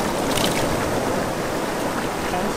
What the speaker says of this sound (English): And now we are on the beach.